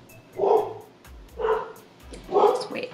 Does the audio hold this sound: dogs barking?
yes